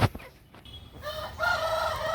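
A rooster on a farm of deshi and hill chickens crows once, a faint, fairly distant call in the second half after a short knock and quiet barnyard ambience.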